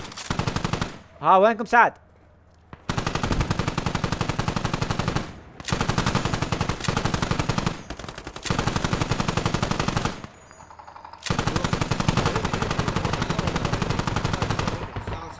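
Sustained bursts of automatic machine gun fire in a video game battle between Russian and American forces at an airport, loud and close, broken by short pauses, with brief shouted voices between volleys.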